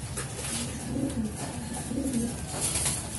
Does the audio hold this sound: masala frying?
no